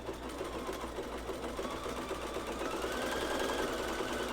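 A sewing machine runs steadily while stitching fabric for women's underwear, a close, continuous whirring hum with a fine rapid needle chatter throughout.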